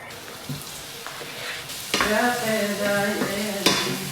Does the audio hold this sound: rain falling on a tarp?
no